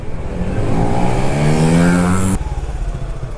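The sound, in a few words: motorcycle engine running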